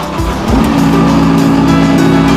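A diesel machine with glow plugs starts up: a brief churning crank, then the engine catches and settles into a loud, steady, low rumble close by.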